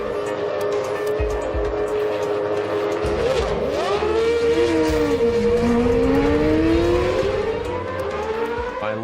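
Racing cars leave the grid at the start of a race at Silverstone, a loud dense roar of engines with pitches rising and falling, overlapping sweeps as the cars accelerate away.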